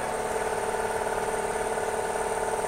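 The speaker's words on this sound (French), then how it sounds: "on entend déjà que le moteur fait quand même un petit peu moins de bruit" A car engine runs during a carbon-cleaning (decarbonization) treatment, giving a steady, even, mid-level drone with a constant hum and no changes in pitch or rhythm.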